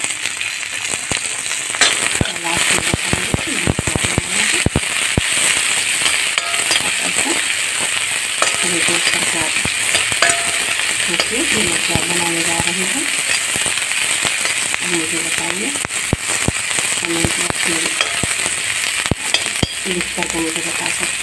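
Chopped onions, cumin and green chilli sizzle loudly in a pan of oil for poha, a constant bright frying hiss with crackles and scraping stirs throughout, close and steady with no talking.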